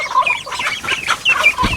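Farm chickens clucking close by in a continuous busy stream of overlapping clucks and short calls, fairly loud, with no talk.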